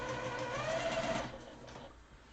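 Sewing machine running as it stitches a quilt, a steady close whir for about a second before cutting off and leaving only faint room noise.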